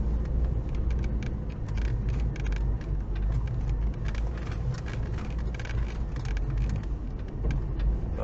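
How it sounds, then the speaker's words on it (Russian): A Lada Niva 4x4 rolls slowly along a dirt track. Its engine and tyres make a steady, close rumble with faint rattles throughout, and no voice is heard. "Спокойненько, спокойненько с вами катимся, проезжаем."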